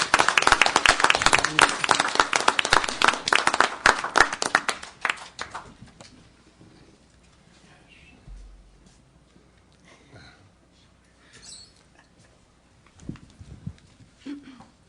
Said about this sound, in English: Let's give Peggy a round of applause